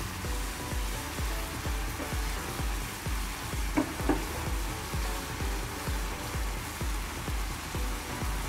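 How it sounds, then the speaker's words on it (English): Flaxseed boils in a pot of water while being stirred, giving a steady bubbling sizzle with a regular rhythmic scrape of the spoon through the whole stretch, close and moderately loud. "So the flaxseed is beginning to boil, and I'm just going to keep stirring."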